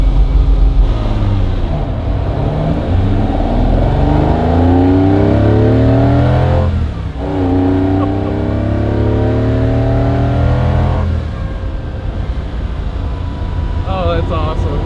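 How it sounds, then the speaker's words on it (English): The V12 engine of a 1964 Ferrari 250 Lusso revs hard, its pitch sweeping up quickly and dropping several times in loud, near bursts, with occupants talking over the sound. "I would say it revs so quick for a V12."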